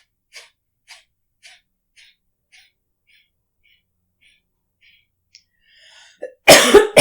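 Several sharp, forceful exhales at a steady rhythm from pranayama abdominal pumping breathing, fading gradually, followed by a louder burst of breath or coughing at the end.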